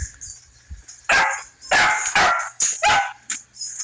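A pet dog, one of several pups kept outside, barks loudly in a run of sharp, close barks with short gaps, a few yips mixed in, on a quiet rural property.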